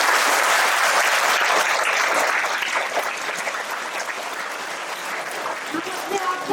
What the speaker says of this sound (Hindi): तो एक बार जोरदार तालियां साहब जी के लिए।